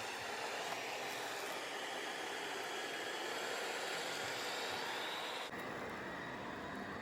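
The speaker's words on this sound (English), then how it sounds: "So it actually might be the high suction mode it's on right this second" A Neabot NoMo self-emptying robot vacuum runs in high suction mode, a loud steady broadband whir held for several seconds before its tone shifts abruptly and continues slightly altered.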